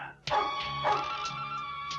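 A dog in an office gives a few sharp barks and yips in quick succession, fairly close and loud, with no talk over them.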